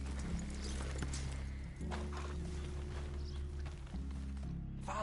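Several horses walk on firm ground, their hooves clip-clopping in a steady, overlapping rhythm at close range over a low, constant background rumble.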